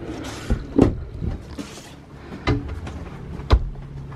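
Small drawers in the interior of a Class C RV motorhome being opened and shut, giving a few short, quiet knocks and slides spaced apart at close range, with no talking.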